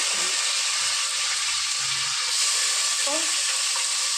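Curry leaves and green chillies crackle and sizzle in hot oil, adding to cinnamon and cloves in a pan for mutton curry; a steady, close broadband frying hiss runs throughout, with a faint voice briefly audible.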